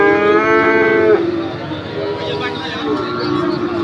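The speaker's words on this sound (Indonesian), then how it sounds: "Ya, seperti ini kualitas sapi-sapi." Cattle for Qurban sale at a livestock market in Pati, Indonesia, with a loud, close, drawn-out moo at the start and another lower moo near the end, amid a busy market hubbub and people talking.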